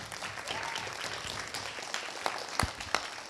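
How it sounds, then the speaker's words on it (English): An audience claps at a live event in Dallas, a soft, fairly distant patter of applause with a few sharper nearby claps standing out. "Can we give everyone a round of applause?"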